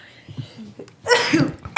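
A single sharp sneeze, close and loud, bursting out after a moment of quiet, low murmuring.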